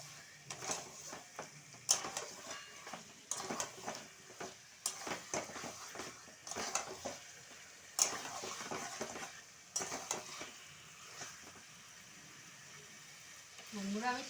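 Fried chicken pieces are stir-fried with masala for restaurant-style chicken chaap, making irregular bursts of scraping, clattering spatula strokes against the pan over a faint sizzle, with quiet pauses between.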